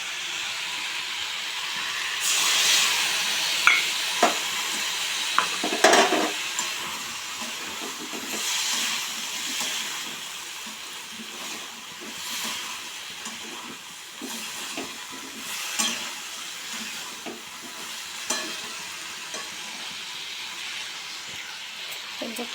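A ground cashew and melon seed paste goes into a hot frying pan for a paneer dish, making a broad hissing sizzle with scattered scraping and clattering strokes that rise and fall over about twenty seconds.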